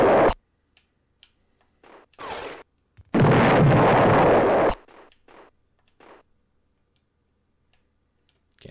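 Grenade blasts go off in the Amiga game Alien Fish Finger: short, loud bursts of noise with the biggest lasting over a second, separated by quiet gaps and small clicking game effects.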